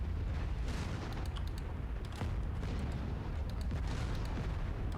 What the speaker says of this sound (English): missed 2 PPC shots there, that's not great